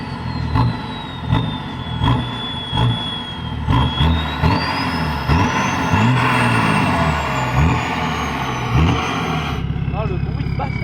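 A tuned BMW 335d twin-turbo diesel revs loudly in repeated bursts, its engine and exhaust rising and falling with a brief hiss near the end, while people talk over it.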